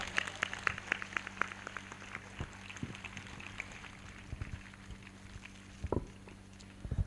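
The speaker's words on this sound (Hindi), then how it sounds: "ताली बजाकर धन्यवाद करें।" A church congregation claps at a prayer service, faint and scattered sharp claps with irregular timing, sparser toward the end.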